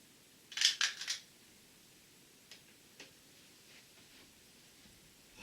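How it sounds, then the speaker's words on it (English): A bag of dice is rustled for a tabletop Dark Age battle game, with a brief bright clatter of rummaging followed by a few faint taps, close and quiet. "I've got to take a dice out of the bag for them"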